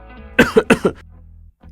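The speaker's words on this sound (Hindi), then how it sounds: "कितनी खांसी भी हो रही है" Several harsh coughs from a person with a cold and swollen tonsils, four quick close bursts in a row followed by a short rasp, loud and near, with no talking over them.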